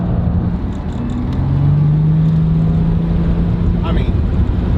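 A Murder Nova drag race car engine runs while warming up, a loud, close, rumbling idle with a sustained tone and a brief rev near the end.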